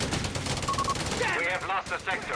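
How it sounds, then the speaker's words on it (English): Strafing-run machine-gun fire in the real-time strategy game Company of Heroes 3 rattles in rapid bursts through a busy battle mix, with a commentator talking over it. "It looked like the strafe came in on the riflemen."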